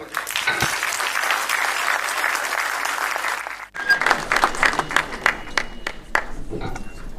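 An audience applauds an entrepreneur's funding pitch in a hall, steady dense clapping that breaks briefly before a second, sparser burst of individual claps.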